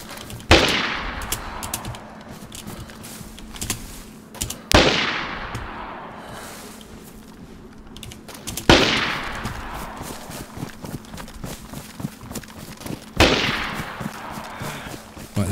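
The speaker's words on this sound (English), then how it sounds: "just put suppression, just fire at him" Four sharp gunfire bursts in DayZ laying down suppressive fire, each a loud crack followed by a decaying tail and scattered smaller shots, spaced a few seconds apart with no talk.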